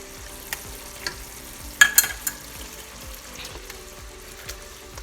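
Chicken curry with coconut milk and freshly added tomato puree being stirred in a pot: a steady low simmering sizzle with repeated soft scraping strokes of a spoon, a few sharper clinks near the middle, no voices.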